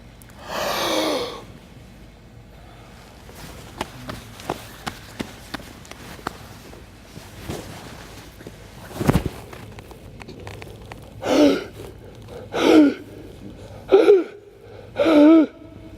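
Heavy gasping and panting from a person during grappling exertion, loud ragged breaths in several bursts with quick sharp inhales, some faint scuffing and taps between them, no talking.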